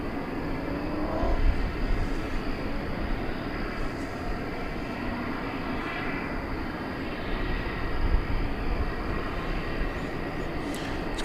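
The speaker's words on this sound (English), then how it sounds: "we've got American Flight 727 coming in from Seattle. It's an Airbus A321." An Airbus A321 airliner, American flight 727 from Seattle, landing at DFW airport at night, with a steady broad engine rumble and roar that carries throughout, loud and fairly close.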